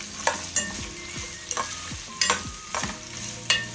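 Sliced carrots and golden garlic sauté in hot oil in a pan, a steady sizzle broken by repeated sharp scrapes and clanks of a spoon stirring every half second or so, close and alone without talk.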